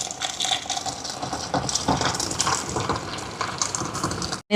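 Water pours and splashes steadily into a bowl of flour for puttu up close, a continuous trickling gush with faint scraping, ending with a brief knock.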